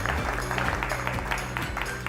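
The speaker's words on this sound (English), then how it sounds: "give yourself a round of applause" Crowd applause at the first session of a men's fall gathering, with steady clapping sitting under a loud, low, continuous background hum throughout.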